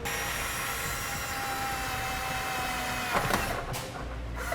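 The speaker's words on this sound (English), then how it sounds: "Now we'll drill a small pilot hole through the center of the bracket into our rocker panel." A power drill boring a small pilot hole through a side step bracket into a vehicle's rocker panel, a steady high motor whine that holds level, then rises and cuts off near the end, heard alone.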